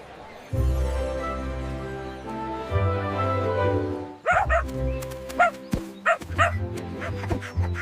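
A puppy dog barks and yips in a children's letter-learning cartoon, starting with a long drawn-out howl-like bark and then several short, sharp yelps close up.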